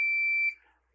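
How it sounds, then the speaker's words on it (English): A single steady electronic beep comes from a multimeter in continuity mode as its probes touch a circuit board ground. The tone holds clear and fairly loud for about half a second, then cuts off into quiet, with no voices. "Go to continuity on the multimeter and put us into continuity mode. So we get the beep."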